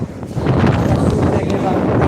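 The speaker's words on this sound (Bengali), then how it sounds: "বোঝা যাচ্ছে যে কীরকম বাতাস এটা বুঝে নিতে হবে কারণ বাতাস তো দেখানো যায় না মোটামুটি বাতাস বইতেছে" Strong storm wind buffets the microphone with a rough, roaring low rumble that surges throughout the short stretch, with a voice faintly underneath.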